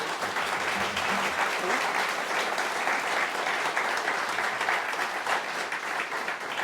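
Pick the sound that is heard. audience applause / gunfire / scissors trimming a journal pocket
audience applause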